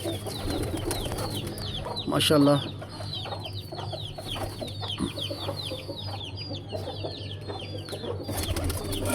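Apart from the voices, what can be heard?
pigeons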